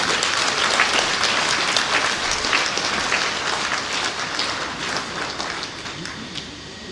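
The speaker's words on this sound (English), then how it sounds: "Please give him a round of applause" Sustained, dense applause from a large audience at an induction ceremony for new members, steady and full throughout with no voices rising above it.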